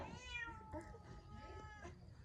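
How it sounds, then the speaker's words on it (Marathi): A domestic cat at home gives a single clear, drawn-out meow up close, followed by softer, shorter mewing sounds, with no talking. "मांजर आमचं वरडले वरडते बा"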